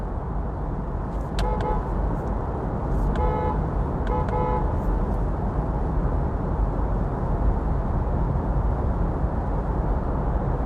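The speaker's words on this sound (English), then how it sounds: "the horn sounds clear since it's echoing in the tunnel" A Nissan Ariya's horn honks in a few short bursts, clear and echoing inside a road tunnel, over a constant loud roar of driving and traffic noise.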